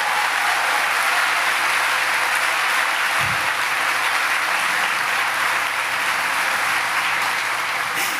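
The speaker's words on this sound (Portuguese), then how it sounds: "pode aplaudir a ele, irmão, mas vai com força" A church congregation claps hard and continuously in a large hall, the loud, dense applause holding steady throughout with a low hum beneath.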